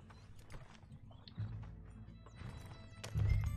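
Horse hooves clip-clop in Red Dead Redemption 2 as a rider sets out on unfamiliar terrain, with soft uneven thuds, a louder stomp near the end and low game ambience, no voices.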